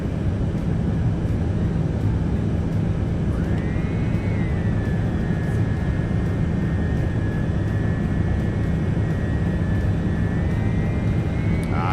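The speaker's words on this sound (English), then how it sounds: "And we have liftoff of the TBM 900." A TBM 900 turboprop aircraft at liftoff in a flight simulator game, a loud, constant engine roar and broadband rush with a steady rising whine layered on top, continuous throughout with no talk.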